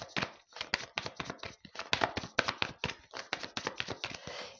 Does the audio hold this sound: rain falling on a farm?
no